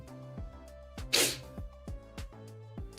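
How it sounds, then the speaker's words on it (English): One sharp human sneeze bursts out midway, loud and close, over steady rhythmic background music with no talk. "Oh, gonna sneeze."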